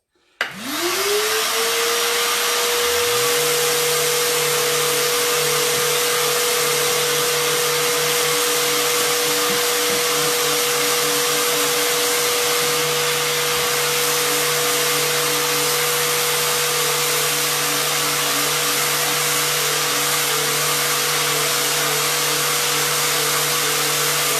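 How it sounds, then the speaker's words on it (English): A vacuum whines up and settles into a steady drone, then a sander starts and both run together in a continuous, even roar. "I'm going to turn the vacuum on. Now you'll hear both."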